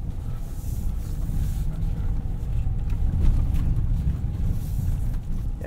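A 2016 RAM 1500 Rebel crew cab with a 5.7L V8 and 4WD rolls off-road, its steady low engine and tire rumble droning throughout at a constant level, mixed with wind buffeting on the microphone.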